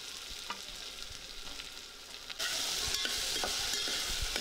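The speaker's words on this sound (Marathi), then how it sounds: "आता राहिलेली कैरी घालूया आणि कैरी तेलामध्ये छान परतून घेऊया" Raw mango pieces sauté in oil with turmeric and salt, giving a steady close sizzle with light stirring clicks that jumps noticeably louder partway through and stays strong to the end.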